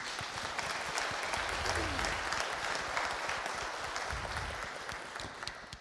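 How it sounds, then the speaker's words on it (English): Sustained audience applause fills a church Sunday service in honor of a graduating young lady, steady and fairly dense throughout with a faint murmur of voices underneath. "Can we give her a round of applause?"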